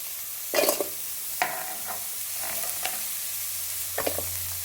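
Two chopped onions frying in a kadai, giving a continuous soft sizzle under a few sharp clanks and scrapes of a stirring spoon, near and with no talking.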